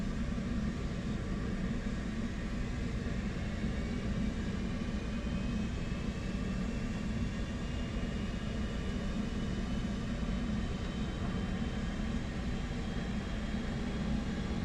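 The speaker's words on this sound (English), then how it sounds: "Alright, we're going to start spooling up the right engine." In the DCS World flight simulator, the right jet engine of an F-18 spools up as a continuous low rumble and airy roar, with a faint tone climbing slowly in pitch, steady and moderately quiet throughout.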